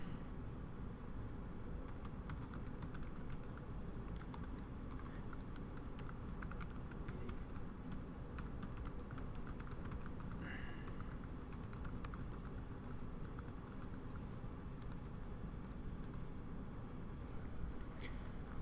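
Code being typed on a computer keyboard, a quiet continuous patter of key clicks at close range over a steady background hiss, with no talking.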